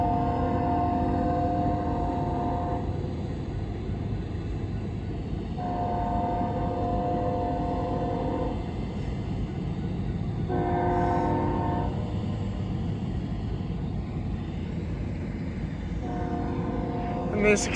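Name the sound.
train approaching at night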